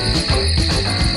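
Close, loud stridulation of a common field grasshopper forms a continuous rasping trill that holds steady without pause.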